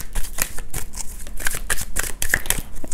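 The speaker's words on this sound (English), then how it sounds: "Don't need a big shuffle." Tarot cards are shuffled by hand, close and crisp, a quick series of riffling flicks and slaps over about three seconds with no voice.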